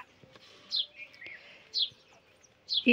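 A talking myna gives three bright, close chirping calls spaced about a second apart, with quiet pauses between them and no people speaking.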